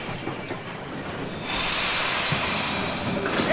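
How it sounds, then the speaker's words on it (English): A train pulls into a station in the video game Red Dead Redemption 2 Online, with steady rumbling rail noise that swells partway through and high wheel squeal near the end, heard alone without talk. "Train's coming in."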